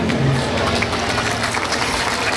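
Applause from a crowd at the opening ceremonies of the Good Old Days Festival greets a judge, a dense, continuous wash of clapping heard at steady loudness from the audience.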